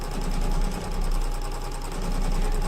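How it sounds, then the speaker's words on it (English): An embroidery sewing machine stitches satin stitch onto a fabric sunglasses cover, a fast, even mechanical whirr with a rapid regular needle pulse that runs continuously and close up, with no voices. "And so satin stitch is going to come."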